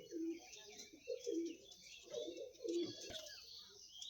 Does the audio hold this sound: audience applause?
no